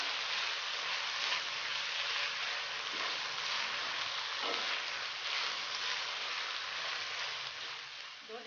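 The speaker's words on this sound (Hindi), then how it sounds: "इसे मज़ीद भूनेंगे।" Keema sizzles steadily in a pan with salt, coriander powder and turmeric, making a continuous faint frying hiss with a few soft stirring scrapes.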